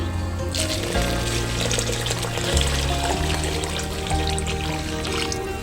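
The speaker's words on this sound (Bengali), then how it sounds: "আমি এবারে দুধ ঢেলে দিচ্ছি।" Milk is poured into a pot while cooking broccoli green payesh, a steady close liquid splash and trickle continuing over a background hum, with no talking.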